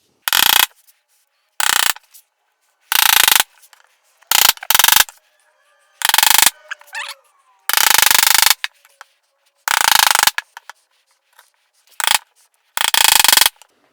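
A chisel cuts wood for a Moxon vise, giving about ten sharp, loud bursts of chopping and paring, each under a second or so, separated by short silent gaps.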